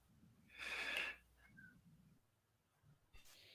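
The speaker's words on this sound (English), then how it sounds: "I hear breathing." One faint, breathy exhale comes through a call microphone, then a few soft rustles and small noises follow over low line hiss.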